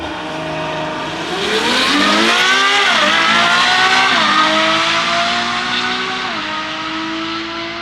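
Supercars on a drag strip at a drag-racing meet, engines roaring loudly and close with rising revs through repeated gear shifts, one sustained acceleration pull dominating without speech.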